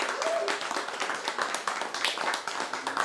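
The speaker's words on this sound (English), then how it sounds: "Can you give Vernon a round of applause" An audience at a New York crypto conference applauds a speaker being introduced, with dense, steady clapping that fills the room for the whole stretch.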